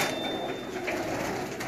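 Soft, low cooing of pigeons close by, a brief murmuring call over faint background hum.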